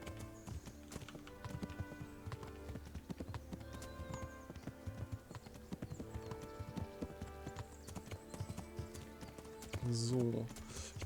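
Horse hooves clip-clopping steadily while riding in Kingdom Come: Deliverance, a regular rhythmic beat under music and someone talking in German, with a short whinny near the end.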